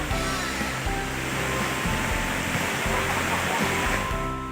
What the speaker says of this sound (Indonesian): Seperti inilah pesona air terjun Bayangsani.